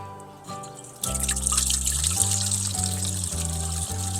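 A POPOSOAP solar fountain pump is tested, pushing water into a close, steady trickle and splash that starts abruptly after a quiet second and keeps a gently pulsing, bubbling rhythm.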